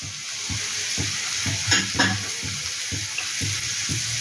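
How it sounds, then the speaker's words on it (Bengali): Thinly sliced onion and chopped chilli sizzle in hot oil, with a steady frying hiss broken by repeated rhythmic stirring scrapes and a couple of sharper clinks, close and fairly loud, no talk. "তেলটা মনে হচ্ছে গরম হয়ে গেছে। এবার এর মধ্যে পেঁয়াজ কুচিগুলো দিয়ে দিচ্ছি"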